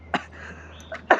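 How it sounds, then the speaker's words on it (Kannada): A person with a lingering cough gives two short, close coughs, one near the start and another at the end, with a brief soft sound in between over a low steady hum. "ನನ್ನ ಕೆಮ್ಮು ತುಂಬ ದಿವಸದಿಂದ"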